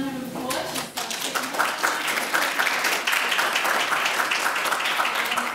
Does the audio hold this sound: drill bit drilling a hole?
no